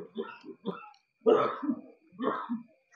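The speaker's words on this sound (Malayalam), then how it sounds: "എന്തുട്ടാടെ ഈ ചുമക്കണേ?" A few rough coughs and throat-clearing bursts come in short separated clusters, close and fairly loud, with quiet gaps between them.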